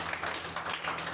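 A short burst of audience applause on a Radio Rishikesh FM show: dense, steady clapping heard close and mid-loud for about a second, with no talk over it.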